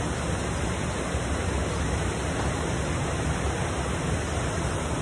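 Abrams Falls in the Great Smoky Mountains, a short but very voluminous waterfall, roars as a dense, steady wash of falling water heard up close with no voices.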